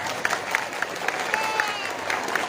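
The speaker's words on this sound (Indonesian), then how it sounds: "Tepuk tangan untuk Darus Sa'adatah." An audience applauds at a religious gathering marking the 80th haul anniversary of the MSDI Islamic boarding school. Steady, rhythmic hand claps rise and fall through a crowded hall, with faint voices in the background.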